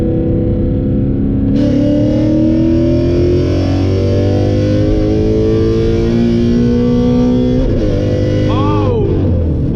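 A car with an MT82 manual transmission and a short-throw shifter revs hard, engine pitch climbing steadily, dropping as a gear change is made and rising again, loud and close throughout.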